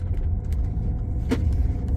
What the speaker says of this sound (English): So the car pulled away very nicely there.